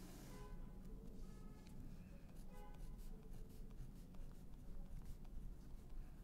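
A pencil or pen scratches on paper while points are plotted for a cubic graph, with steady, faint strokes and taps over a low background hum.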